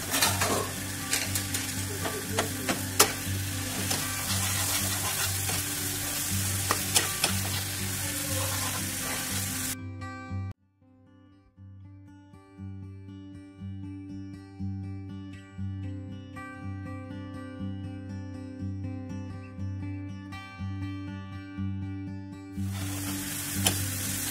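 Spice masala sizzles and fries in oil in a pan for an aloo matar kabab kalia, with steady stirring scrapes; the frying stops abruptly midway, leaving a quieter stretch of sparse clinks, then resumes loudly near the end.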